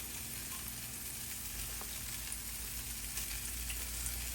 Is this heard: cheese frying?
yes